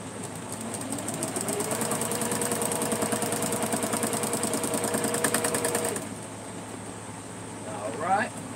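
A sewing machine stitching down quilt fabric runs in a fast, steady mechanical chatter for about six seconds, then stops, leaving a low background hum, and a voice briefly speaks near the end.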